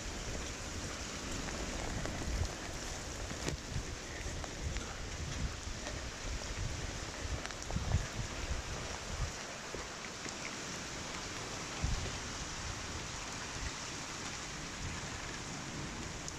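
Steady rain falls on a farmyard during a summer storm, a dense, even hiss close to the microphone that runs unbroken for the whole stretch, with a few soft low thumps underneath and no voices.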